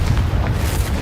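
A Confringo blasting spell exploding in Hogwarts Legacy, a short dense low boom with a rumbling burst, loud and close with no talk.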